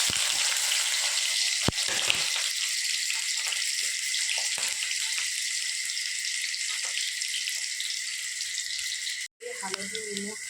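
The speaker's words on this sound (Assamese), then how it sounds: "ইয়াতে পিঁয়াজ আদা নহৰু গোটেইখিনি দি দিছোঁ।" Onion, ginger and garlic frying in hot oil give off a steady, bright, hissing sizzle close up, broken by a brief stir or clatter before a voice speaks near the end.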